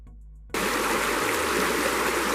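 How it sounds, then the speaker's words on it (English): Fast-flowing water of Crater Creek at the start of a fast-water stretch, a loud, steady broadband rush that bursts in after half a second of near silence and holds evenly to the end. "So here we are at the beginning of Crater Creek, and this is a fast water unit."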